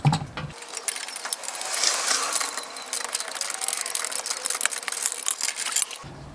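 A ratchet wrench backs a bolt off a ball joint on a Volkswagen Jetta, Golf or Passat: a rapid, continuous clicking and metallic rattle that carries on for several seconds, close and fairly loud.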